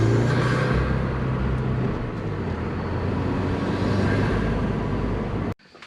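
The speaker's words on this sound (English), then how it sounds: "You hear the blow-off pretty good, as well as the intake induction noise," A 2020 Subaru WRX fitted with a Mishimoto intake drives under load with loud, sustained engine and intake induction roar, the note shifting slightly before dropping off sharply near the end as the blow-off releases.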